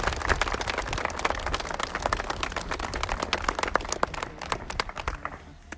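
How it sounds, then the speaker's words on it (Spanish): An audience at the swearing-in ceremony of an Otomí indigenous supreme chief in Zinacantepec claps steadily, dense and fairly close, then thins out near the end. "Fuerte el aplauso."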